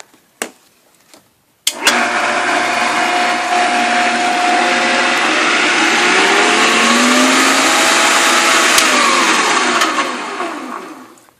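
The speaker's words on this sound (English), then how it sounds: "you have to turn the machine up to high speed setting, or a higher speed, to oil the motor" A Shopsmith Mark V woodworking machine's motor is switched on and spins up to a high speed setting, a loud steady whine with a rising and shifting pitch that holds for about eight seconds before beginning to wind down, with no talking.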